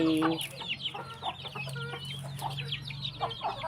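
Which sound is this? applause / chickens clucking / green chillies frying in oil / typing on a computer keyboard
chickens clucking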